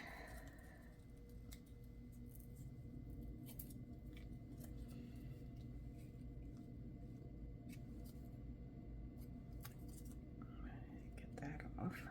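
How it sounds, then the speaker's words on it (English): Scissors snipping through paper while making a DIY ticket strip, quiet crisp cuts scattered through the clip under soft whispered talk and low room noise. "we're going to cut"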